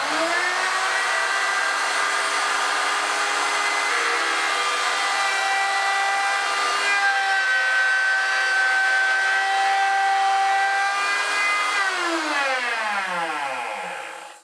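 A router with a 1/2 inch bit makes one shallow pass through wood, a loud steady high-pitched whine that holds for most of the clip, then spins down in falling pitch at the end.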